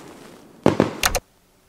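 Fourth of July fireworks go off in a quick sequence: two sharp bangs followed by a brighter crackling burst, then everything falls to near silence.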